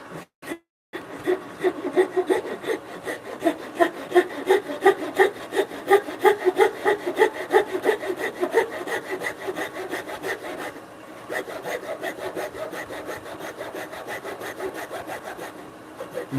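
Handsaw making repeated relief cuts into wood beside a marked line for a bunk bed joint, a steady close back-and-forth rasping rhythm that pauses briefly near the middle and then resumes.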